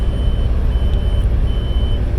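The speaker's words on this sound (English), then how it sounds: "you're going to hear a beep here in a second" A weigh station bypass beep from a device inside a truck cab, a faint steady tone running over the loud, continuous rumble of the engine and road noise while driving past the station.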